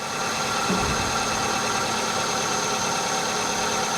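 A Hyundai car engine idles steadily up close under an open hood, giving a constant mid-pitched hum with a faint whine and a light thump near the start.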